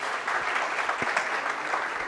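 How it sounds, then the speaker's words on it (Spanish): Brief, steady clapping from participants applauding the groups during a teamwork webinar, a short even patter with a few sharper individual claps standing out. "Un aplauso para todos los grupos, por favor."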